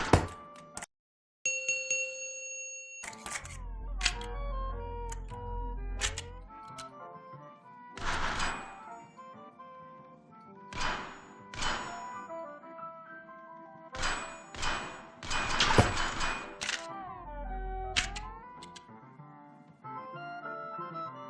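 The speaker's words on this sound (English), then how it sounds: "Repeatedly ringing that bell in a highly irritating fashion." A small waiter's service bell in a VR game, struck again and again in an irregular, insistent run of bright metallic dings, each ringing out briefly over soft room tone.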